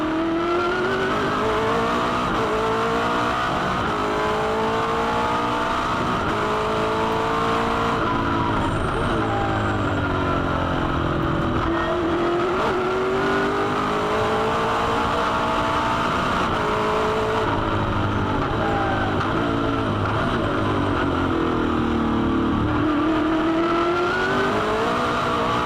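Onboard a V8 Supercar racing around the Adelaide 500 street circuit in 2007, the engine roars loud and close, continuously rising and falling through gear changes and corners, with commentary voices faintly underneath.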